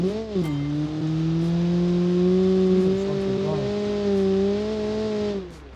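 A 1977 communist car with a 99-horsepower engine accelerates hard, its steady droning engine note swelling and rising in pitch, loud and close.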